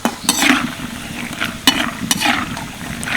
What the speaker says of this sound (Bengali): এই বাদামগুলোকেই আমি তেলের মধ্যে ভেজে নেবো